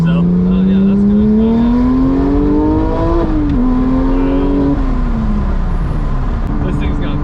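A Porsche 991.2 GT3 with a manual gearbox blips its engine to match revs, a loud, steady in-cabin drone that rises, dips and climbs again, with people talking over it.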